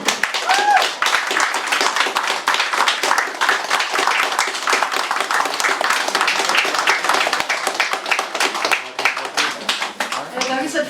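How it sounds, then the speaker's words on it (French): Dense, steady applause from an audience at an anniversary drinks gathering, brisk close-range hand clapping that runs unbroken and loud throughout, with voices faintly mixed underneath. "Applaudissements pour Gérard Fontaine."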